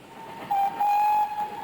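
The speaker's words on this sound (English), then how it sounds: "It's the sound of steam, echoing and re-echoing right down to the sea." A steam train whistle sounds in two bursts, a short blast and then a longer sustained one, ringing out and echoing around a valley over low rumbling.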